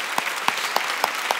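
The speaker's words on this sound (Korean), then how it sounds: "하나님께 박수" A church congregation at a New Year's Eve worship service claps in short, loud unison beats, five sharp claps evenly spaced over a steady crowd rustle.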